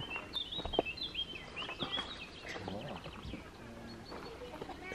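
Birdsong in the Black Forest in Germany, with bright chirps and short calls scattered through the clip, partly under people talking and some background rustle.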